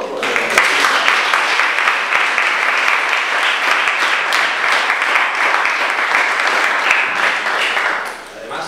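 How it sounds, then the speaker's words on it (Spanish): An audience after a talk on clinical psychologists and psychotherapists gives sustained, dense applause for about eight seconds before it tapers off abruptly. "gracias y un aplauso para todos"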